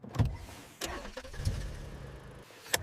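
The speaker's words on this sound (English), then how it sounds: "I start the car." A car engine cranks and catches in short bursts, with a few clicks and thumps around it, close and fairly quiet.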